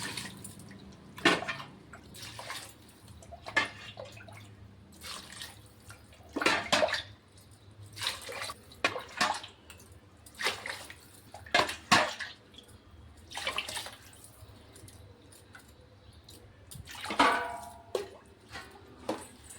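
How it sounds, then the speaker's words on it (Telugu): Water poured from glasses into a pot of rice and moong dal for khichdi, heard as repeated splashing bursts and clinks of vessels, near and fairly quiet, with no talking. "ఇప్పుడు 6 గ్లాస్ వాటర్ పోసేయాలి"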